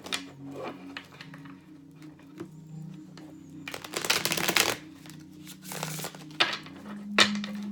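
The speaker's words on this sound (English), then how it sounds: "I'm going to do a couple of quick shuffles" Tarot cards being shuffled in several quick riffling bursts, close up, with short pauses between them over a low steady hum.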